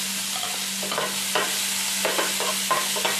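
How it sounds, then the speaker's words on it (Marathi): Chopped onion frying in hot oil in a pan for a Marathi river-fish curry, a continuous sizzle broken by repeated scraping stirs of a spoon, close and loud with no talking. "आता त्याच्यामध्ये आपल्याला कांदा टाकायचा आहे।"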